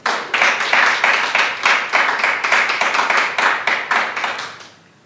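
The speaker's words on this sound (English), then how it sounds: "I think the professor deserves another round of applause." Audience applause for a professor at a World Press Freedom Day event, a loud, close burst of clapping that holds steady for several seconds, then thins and fades out near the end.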